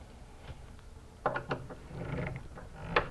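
Converter screws are tightened by hand inside an electrical power center, giving a few close, faint mechanical clicks and scrapes with short gaps between them, and no voices.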